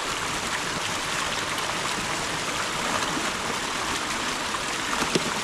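Swamp water rushing through a broken beaver dam, a steady, even hiss of flowing water close by, with no voices.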